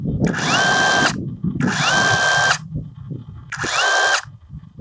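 A Procraft PKA44 cordless mini chainsaw revs up three times in short bursts, each a loud, high electric whine that climbs smoothly to speed, holds, then cuts off, with quiet gaps between.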